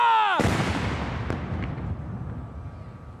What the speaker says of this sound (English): waiting to fire the first gun of the 41-gun Royal Salute